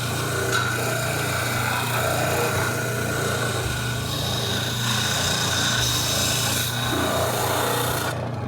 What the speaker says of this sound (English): I've also sanded just to kind of blend these seams a little bit nicer